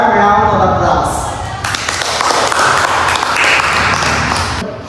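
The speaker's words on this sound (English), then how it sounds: "Let's show our appreciation with a warm round of applause." Audience applause at a Toastmasters hospitality event on mental health awareness. Dense clapping swells in about a second and a half, holds steady, then stops abruptly near the end, with murmuring underneath.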